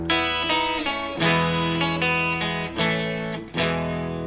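Electric guitar plays the chord part of a song, bright strummed and ringing chords with several changes in quick succession, close and alone.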